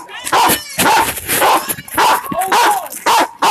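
A police dog barks loudly and repeatedly during a tense arrest, its sharp barks overlapping with shouting voices of officers and a man.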